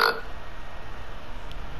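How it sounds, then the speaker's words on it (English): Talking Ben, a cartoon dog in a mobile game, lets out a short loud burp at the start, followed by low murmuring background noise. "I just made him burp."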